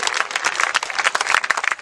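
A crowd at a Hindi patriotic poetry recital bursts into brief, loud, dense applause with rapid overlapping claps.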